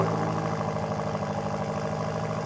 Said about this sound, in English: Here's a stock M5 Competition starting up